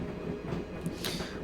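Train in the Broken Sword adventure game, a steady low rumble of rolling rail cars with faint clacks and rattles, continuous and moderately loud.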